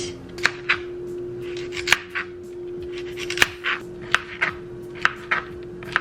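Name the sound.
peeling a carrot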